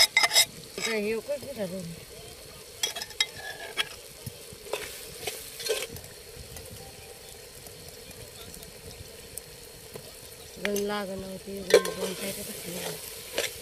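Masala added to a pan and stirred as it fries for a village-style mutton pulao, giving soft sizzling and scraping in a few bursts near the start and again toward the end, with quiet stretches in between.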